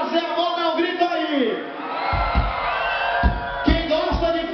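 At a carnival forró show, a crowd shouts and whoops over loud band music with a steady, thumping beat. A singer's voice rings out above the noise.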